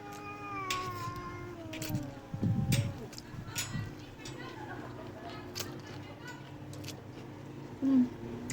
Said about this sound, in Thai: แมวกับมากัดกันจ้ะ